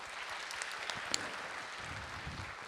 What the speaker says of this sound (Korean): 우리 박수 한번 쳐주겠습니다.